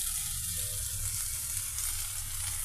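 Hot oil sizzles steadily over pieces of green chilli and big onion in a pan, a loud, even hiss with no break and no talking.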